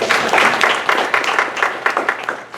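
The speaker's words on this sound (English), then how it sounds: "so let's give them a big round of applause." An audience applauds its event hosts at a marketing talk, a dense, steady patter of many hands clapping together that rises and falls slightly without letting up.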